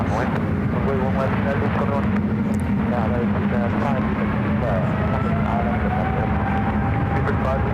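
A Boeing 777-200ER airliner on the runway at SFO, bound for London Heathrow, rumbles with a steady, continuous engine drone beneath near-constant radio chatter from voices.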